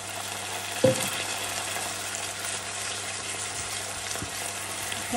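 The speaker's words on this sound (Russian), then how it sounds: "Немножко сейчас водички добавлю" Tomato paste fries in a pan, hissing after a splash of water is added, with a soft steady sizzle, a couple of sharp clinks and low stirring noises close by.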